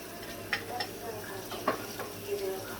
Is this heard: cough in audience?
no